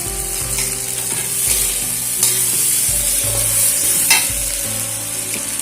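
Cumin, coriander and turmeric powders fry loudly in a pan for khichuri, a dense continuous sizzle with repeated scraping and clacking of a stirring spoon throughout.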